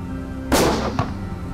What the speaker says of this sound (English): Good shooting, Ashlee.